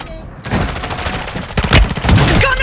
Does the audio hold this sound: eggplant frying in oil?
no